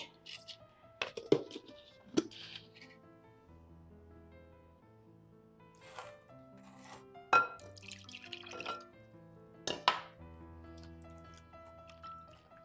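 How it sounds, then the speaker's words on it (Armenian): Water added to thick, firm matzoon yogurt in a bowl, with soft drips, wet squishes and a few sharper splashy taps, close and intermittent, while a low hum continues beneath. "Ես մի քիչ ջուր պետք է ավելացնեմ մեջը և փորձեմ թուլացնել"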